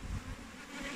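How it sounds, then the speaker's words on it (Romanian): Dense, steady hum of honeybees crowding a working hive in New Zealand, a close buzzing drone that fills the short moment with no talk over it. "Deci, ia uitați, bubuie de albine."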